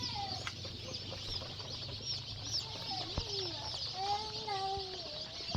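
Many local poultry chicks peep and chirp in a continuous, busy chorus of short, high calls, heard faintly at a distance.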